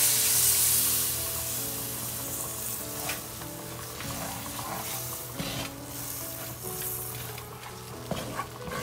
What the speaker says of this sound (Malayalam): ഇതാ നമ്മുടെ പുളിവെള്ളം കുറച്ചായിട്ട് ഇതിലേക്ക് ഒഴിച്ചു കൊടുക്കാൻ പോവാണ്